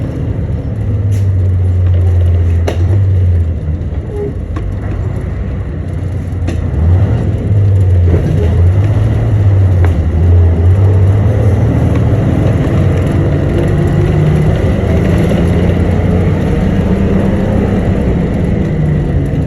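A Crown bus engine runs at about 20 mph and 1,800 RPM, a loud, steady low drone with rising and falling pitch as gears shift, continuous for the whole stretch.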